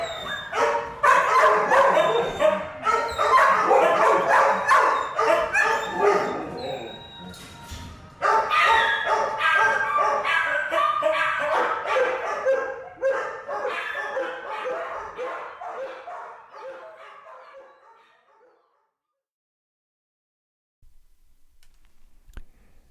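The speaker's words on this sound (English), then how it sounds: "The doggies win. Their voices, so loud, so distraught, and in such numbers, coerce me to listen." A pack of dogs barking and yelping loudly in overlapping chorus, gradually fading toward the end, followed by a brief quiet stretch.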